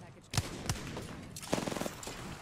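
Gunfire in an online shooter game, a few sharp single shots followed by a quick rattling burst, fairly quiet and set against muffled game ambience.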